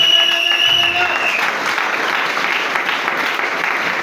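A church congregation claps and cheers in praise, dense applause filling the room while a voice sings or speaks over the opening moments.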